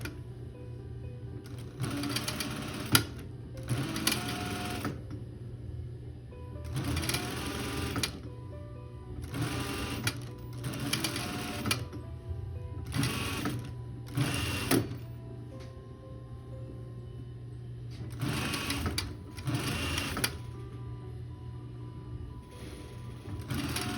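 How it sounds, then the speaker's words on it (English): A sewing machine stitches along the edge of a blanket coat in repeated short bursts of rapid needle chatter, separated by quieter pauses of handling the fabric. "And then back over to the machine. And we are stitching along that edge"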